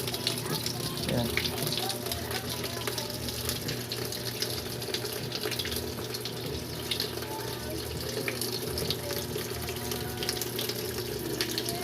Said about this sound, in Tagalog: pumapasok na guys yung tubig.